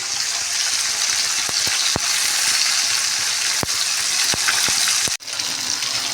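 Washed cabbage with garam masala, salt and turmeric frying in a pan: a loud, steady sizzle throughout, broken by a few sharp clicks and a brief dip near the end.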